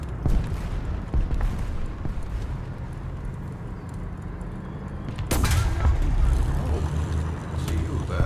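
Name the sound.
gunfire in War Thunder (video game)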